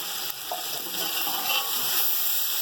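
Chicken fries with yogurt in a pot for a yakhni pulao, giving a steady, moderately loud sizzle with a soft stirring clack early on, close and without talk.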